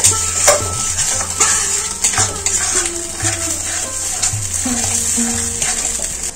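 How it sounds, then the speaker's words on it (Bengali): Spice paste being stir-fried in a pan for a curry of duck eggs with nalte greens and green jackfruit, with steady sizzling and repeated scraping and clanking of a spatula against the pan, close and loud. "এই মশলাটা খুব ভালো করে কষাতে হবে।"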